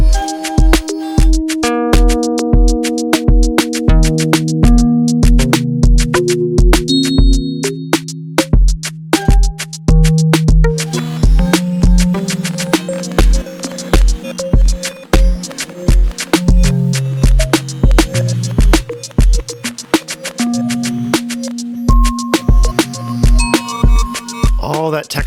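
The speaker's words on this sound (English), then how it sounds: "All that texture and movement you're hearing is from Nautilus, including the distortion." Qu-Bit Nautilus delay module shaping a synth patch into shifting textured echoes with distortion, steady pulsing clicks under sustained and gliding tones, loud and continuous throughout.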